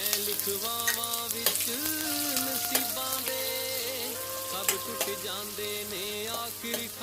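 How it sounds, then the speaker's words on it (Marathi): Chopped onion fries with cumin and curry leaves, a dense continuous sizzle with occasional stirring clicks, under a steady melodic tonal background. "कांदा आपण लालसर असा भाजून घेणार आहोत."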